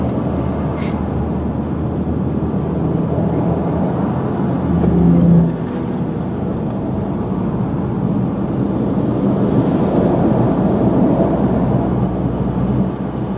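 Car driving in traffic on the way to work, heard from inside the cabin: a steady low road rumble and engine hum, loud and continuous, swelling briefly midway, with no talking.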